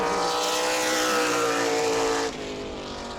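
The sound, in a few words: super late model race car at New Smyrna Speedway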